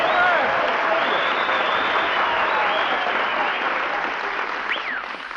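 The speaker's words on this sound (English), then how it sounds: "Applause, cheers, whistles." A live studio audience at a comedy variety broadcast bursts into loud, sustained applause mixed with cheers and whistles, filling the whole stretch before easing slightly toward the end.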